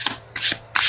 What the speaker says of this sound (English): Let's pull a challenge card.